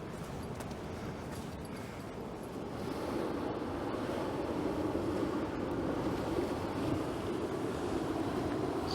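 Waves crashing and washing along the Dawlish seafront, a continuous broad surge of surf that swells louder after a few seconds, with gusty wind buffeting the microphone and no one talking.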